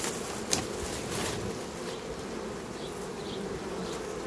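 Honeybees buzz steadily around the entrance of a beehive, a dense, continuous insect drone with a few louder passes close by and no voices.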